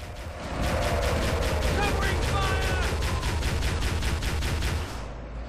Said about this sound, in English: One valid strategy is to take this turret, spin it around, and hit the Banshee with it